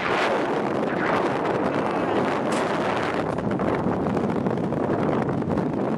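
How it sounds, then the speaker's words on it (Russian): Heavy wind buffets the microphone continuously, a loud rumbling roar with gusty surges and no voices. "Гребаный ветер, а?"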